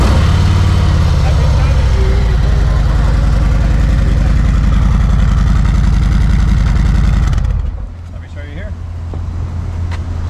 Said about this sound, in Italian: Abbiamo preso un Harley Davidson Road Glide, modello del 2017.